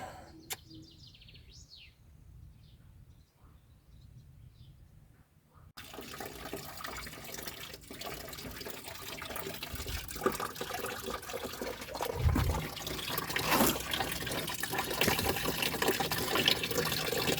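Coolant runs from the engine block drain screw of a BMW E34 520i, a steady close splashing stream that starts suddenly after a quiet moment and carries on continuously, with faint birdsong in the background.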